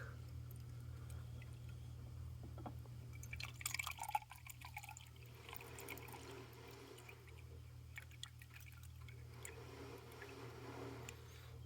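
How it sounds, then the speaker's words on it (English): Diesel fuel drips and trickles faintly from a VW Golf TDI fuel filter as it is lifted from its housing, soft liquid patter over a low steady hum. "Slowly pull the filter up, let it drain."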